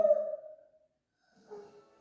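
A single long, loud yawn that trails off, followed by a softer breathy vocal sound.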